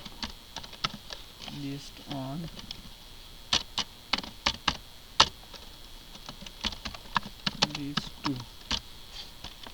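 Keys clatter on a computer keyboard while HTML code is typed, with irregular clicks and bursts of keystrokes close by, heard under someone speaking.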